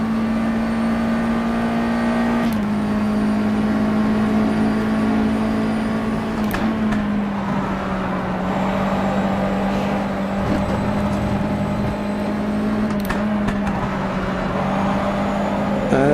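A USF2000 open-wheel race car in rFactor 2 drones loudly and steadily at Watkins Glen, its engine note holding a sustained pitch with brief dips at each gear change, close and alone.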